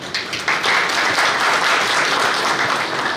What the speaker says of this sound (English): So have a big applause.